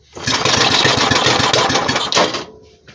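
A 5hp Briggs and Stratton engine from a racing go-kart fires up and runs in a loud, close, rapid chugging burst for about two seconds before cutting out abruptly.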